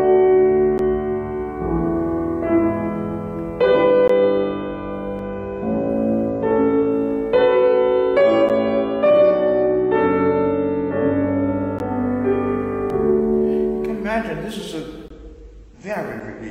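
An instrumental excerpt of Mendelssohn unfolds in sustained, rich harmonic tones with slow chord changes, played clearly and fairly loud, ending with a few brief noisy bursts.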